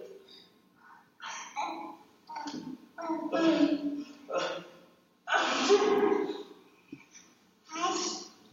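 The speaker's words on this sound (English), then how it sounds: "the father's about to sneeze" A man sneezes once, sharply, amid bursts of family chatter and breathy reactions close by.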